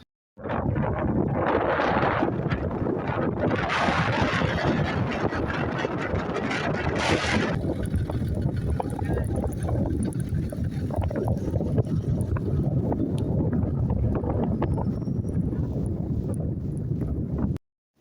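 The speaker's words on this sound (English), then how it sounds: "there's a continuous wind in the desert" Continuous wind in the Sahara desert buffets the microphone in a loud, unbroken roar, with heavier gusts in the first half. Low rumbling persists underneath throughout, and no one speaks.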